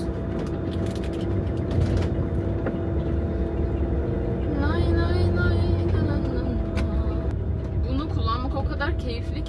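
A camper van drives along a road, its steady engine and road rumble continuous throughout, with people talking over it and some rattling inside the cabin.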